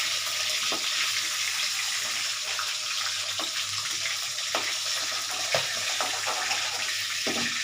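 Running tap water splashes continuously into a sink as hands are washed after frying fish, with light clattering and a few sharp knocks, no voices.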